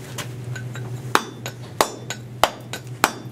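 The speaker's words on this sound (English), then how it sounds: "Notice I'm now using the chisel at my body at a different angle" A mason's chisel is struck on stone to cut a chamfer, giving sharp, ringing metallic clinks roughly every half second over a low steady hum.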